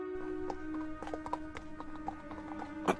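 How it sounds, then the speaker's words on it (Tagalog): A horse snorts and its hooves clip-clop in a quick, fairly quiet rhythm, used as a story sound effect, with one sharper snort or whinny near the end and no talking. "nakarinig ako ng pagsingal na mula sa isang kabayo"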